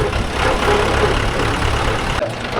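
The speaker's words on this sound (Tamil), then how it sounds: "பாரு வண்டி எதுக்கு இப்படி உஞ்சி உஞ்சி போகுது?" Mahindra 575 DI tractor engine running steadily in farmland, a continuous low, rough rumble at close range with a slight dip near the end, no talk over it.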